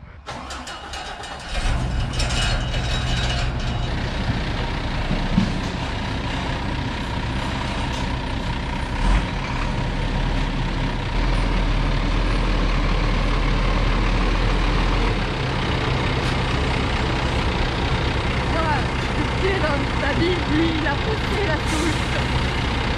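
A truck's engine runs loudly and steadily as the vehicle reverses, a continuous mid-pitched rumble that starts up after a short quiet opening and dominates throughout, with no talk over it.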